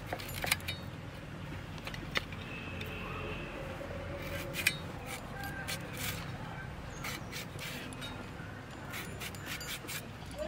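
Raw green bananas being sliced with a knife before frying, giving a series of sharp, irregular clicks and scrapes at close range over a quiet background, with no talking.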